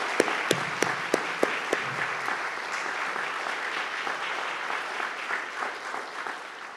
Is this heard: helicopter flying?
no